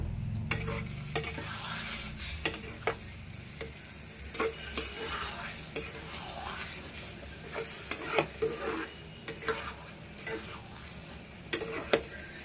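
A spoon stirs and mixes curry in a pan, scraping and knocking at irregular intervals over a soft, steady sizzle, close up and with no speech.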